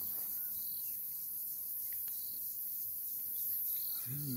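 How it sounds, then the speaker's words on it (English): Insects in the South African bushveld after long-awaited rain, a steady faint high chirping drone with an occasional distant bird call over quiet background. "the bush is alive. Bugs are at work."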